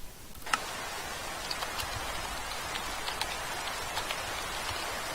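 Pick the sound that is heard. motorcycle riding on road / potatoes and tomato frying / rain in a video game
rain in a video game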